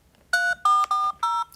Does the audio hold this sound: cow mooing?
no